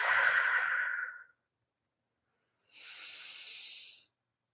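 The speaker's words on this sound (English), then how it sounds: "see if you can keep that ujjayi breath activated" Ujjayi breathing during a yoga flow: two long, breathy hisses through a constricted throat, an exhale then an inhale, close and steady with a silent pause between them.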